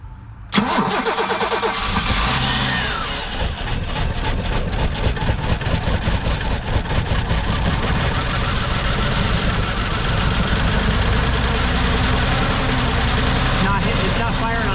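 A 1987 BMW 528e with a split intake cranks and starts, then settles into a loud, rough, uneven idle that keeps running close by, with voices talking over it.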